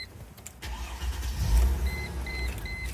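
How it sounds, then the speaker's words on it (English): A 2003 Mercedes-Benz ML350 starts on a programmed spare key: a short starter crank, then the engine catches and settles into a steady close idle, with no talking. "So the chip actually starts the car."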